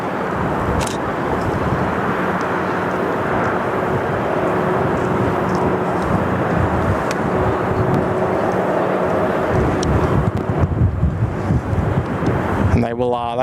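Jetstar Boeing 787-8 airliner landing at Sydney Airport, a loud sustained engine roar and rushing wind noise filling the whole stretch, with a voice talking over it.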